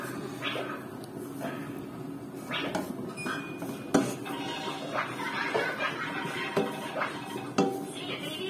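A fish bait mixture with Royco seasoning being stirred in a pan, heard as irregular scraping and clinking of a utensil against metal, with occasional sharper knocks and a faint background bird cluck.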